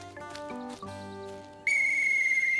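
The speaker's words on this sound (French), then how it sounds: "C'est un sifflet." In a French children's cartoon, a toy whistle gives one long, shrill, steady blast, following a few short musical tones.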